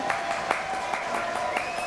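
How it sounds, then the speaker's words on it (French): Applause from a studio audience on a French talk show, a steady moderate patter of clapping with a few sharper claps, sustained throughout. "applaudissements pour Holdan."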